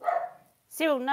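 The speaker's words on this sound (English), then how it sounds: "Excuse my naughty dog, he's been naughty." A small dog gives a few yelping barks indoors, loud and close, just before and around a woman's brief spoken scolding.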